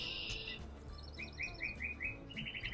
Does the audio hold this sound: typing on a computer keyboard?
no